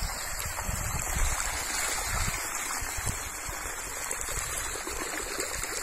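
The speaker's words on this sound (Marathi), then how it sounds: "आता मोटर चालू झालीच" Water pumped by a farm motor gushes into a field bed planted with garlic and onion, a steady close rushing flow with no pauses.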